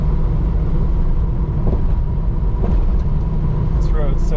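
A car engine hums loud and steady from inside while driving down a rough, pothole-strewn road, a constant low drone with occasional faint bumps and clunks.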